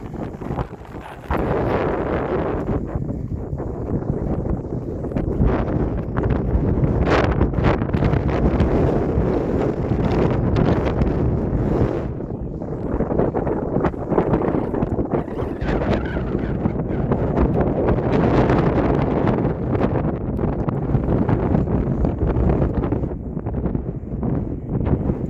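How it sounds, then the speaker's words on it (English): Strong wind roars steadily across an open mountain ridge near Carson Pass on the Pacific Crest Trail, buffeting the microphone close up in loud, continuous gusts with no voices. "We are out in the open and it is windy today."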